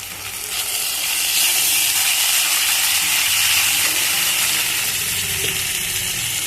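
Ghee sizzling in a pan while cooking homemade masala wheat pasta, a steady broad hiss and crackle that swells after the first second and holds fairly loud and close to the end.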